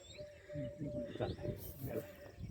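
A peacock calls in the early morning near a clifftop temple, a few shrill, rising cries that stand clear above a bed of wind noise and distant birdsong.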